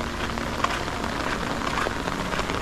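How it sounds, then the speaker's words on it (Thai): Rain falls steadily at six in the morning, a dense even patter of drops on surfaces close around, with no voices. "ฝนตกนะครับ"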